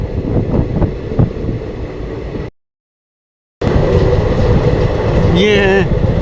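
The Vindhyachal Express passenger train rumbles along slowly with steady broadband wheel and carriage noise and wind buffeting, cut by a brief silent gap, then resuming with a faint whining tone near the end.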